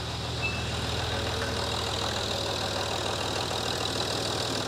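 Rebuilt Range Rover Sport engine idling after an engine swap, a steady close rumble with an even fast pulse and a faint ticking edge, continuous throughout with no voices.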